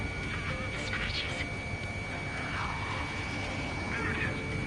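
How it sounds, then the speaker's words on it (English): Steady propeller drone of an EASA liaison plane in Ace Combat 7: Skies Unknown, a constant mid-level engine hum that holds throughout, with faint radio voices over it. "There it is. The EASA liaison plane."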